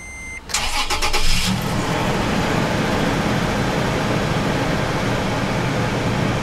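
A 2008 Toyota Tacoma cranks briefly and catches, then settles into a loud, steady idle heard up close with no talking.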